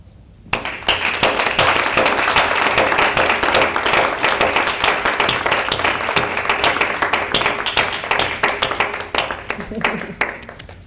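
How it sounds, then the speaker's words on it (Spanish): Applause for the participants at a press presentation of a Christmas street-decoration project on El Boulevard: a dense, sustained burst of clapping from a gathered group, starting abruptly and carrying on steadily for about ten seconds before thinning out. "un aplauso a toda la gente que ha participado"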